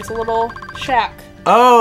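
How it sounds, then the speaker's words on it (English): A mobile phone ringtone sounds in two short bursts, first brief and faint, then a louder tonal ring near the end, while people chat casually about a seaside lobster shack. "Whoop, that was my phone."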